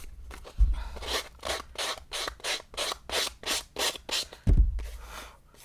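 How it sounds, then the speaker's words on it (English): Sandpaper is rubbed back and forth along the edges of glued paper pieces in a quick series of short, rhythmic scratching strokes, close and clear, with a couple of heavier knocks at the start and end. "just that little bit of sanding went a long way to clean up those edges"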